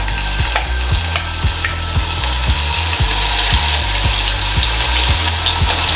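Ginger dropped into hot oil in a kadai for a Kerala chicken stew, frying with a steady close sizzle and repeated sharp metallic scraping clicks of a spoon stirring against the pan, with no talk.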